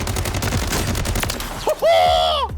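Dual machine guns with 50-round magazines on each side firing in close-range Warzone combat, a dense crackling burst of rapid gunfire followed by a brief electronic tone.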